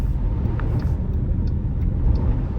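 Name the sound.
Jeep Grand Cherokee 4xe on winter tires driving through slush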